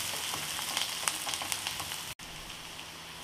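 Onions soften in a pan for Mumbai-style kanda poha, a soft steady sizzle with scattered light pops and spatter, a brief dropout near the end, no talking.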